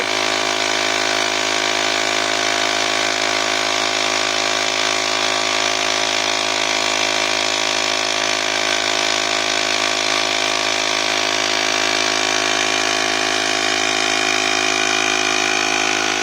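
A RICO air compressor runs steadily while inflating a car tire, a loud continuous motor drone with a buzzing whine, even and unbroken throughout.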